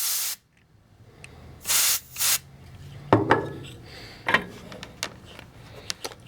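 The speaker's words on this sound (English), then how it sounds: "see if we can get this duster to blow it out of here" Short hissing blasts from a compressed air duster blowing debris out of a ZENY PRO 862D+ solder rework station, several bursts separated by clicks and handling knocks, close to the microphone.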